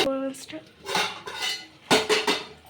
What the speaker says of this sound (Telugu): మూత పెట్టేస్తుంది.